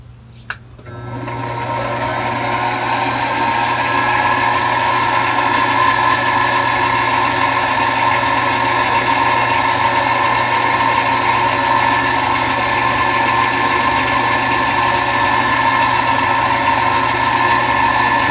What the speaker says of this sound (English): And we're going to drill 1" 4/16.